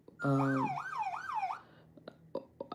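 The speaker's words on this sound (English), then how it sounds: "We have some sirens coming." A wailing siren with a rising and falling yelp, loud and close at first, then cutting off, followed by scattered faint clicks and knocks.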